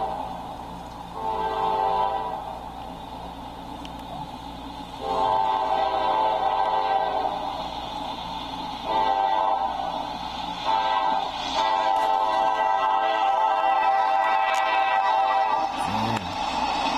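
An eastbound CSX manifest freight train passes at Fostoria, Ohio, a steady loud rumble of wagons rolling through, with several long horn blasts rising and falling over the noise, the last near the end.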